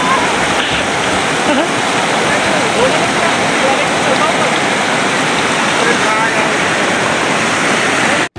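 Rushing mountain river on the Mandani Valley trek in Uttarakhand, a loud, steady broadband roar of fast water filling the whole clip without pause, heard close by.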